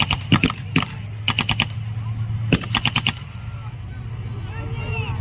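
Marines fire rifles during a demonstration, sharp gunshots arriving in quick clustered volleys at a moderate distance, then fading into open-air quiet with faint background noise.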